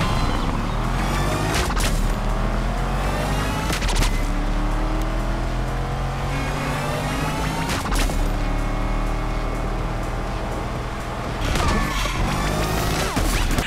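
Hip-hop style sample mix synced to a car engine in NFS Unbound, with rhythmic musical chops and engine tones layered over a loud, continuous racing sound.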